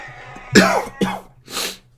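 Three coughs in a row, close and fairly loud, the first the strongest, with short pauses between them.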